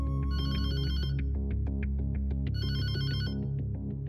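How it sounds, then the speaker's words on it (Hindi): A telephone ringtone trills in a Hindi-dubbed South Indian film, two loud electronic ringing bursts with a melodic tone pattern between them, heard alone with no talking. "चीनू, फोन किसका है जरा देखो।"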